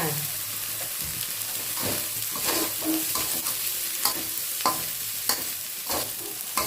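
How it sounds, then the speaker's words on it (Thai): Tom yum fried rice is stirred and tossed in a hot pan. A steady close sizzle runs throughout, with repeated spatula scrapes and clinks against the pan at an irregular rhythm. "คลุกเคล้าเข้ากันนะคะ"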